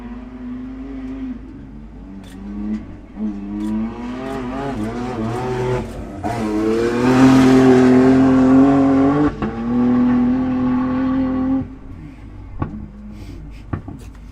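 A race car lapping at the 2024 Riverland Enduro off-road race near Waikerie, its engine note climbing and falling through the gears as it sweeps past, loudest midway, then fading away.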